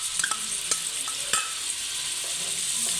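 Ginger-garlic paste frying with spices for chicken shami kabab, giving a steady close sizzle with a few sharp scraping stirs of a spoon against the pan.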